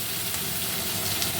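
Sliced onion hits hot oil with a dense, even sizzle, a loud close hiss holding steady for a moment.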